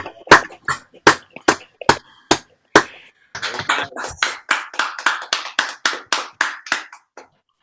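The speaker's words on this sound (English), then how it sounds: "Give a round of applause." Claps come in over an online call, close and dry: a few separate, evenly spaced claps at first, then a quicker run of sharp claps before stopping.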